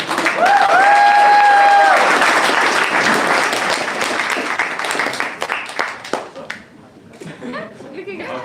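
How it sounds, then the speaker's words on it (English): Loud audience applause at a startup pitch event, strong at first and then breaking into scattered claps and chuckles as it fades. "let's make a big applause"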